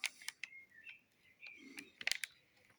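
Blackbird singing faintly in the background indoors, thin whistled phrases mixed with sharp clicks and paper or handling noises close by.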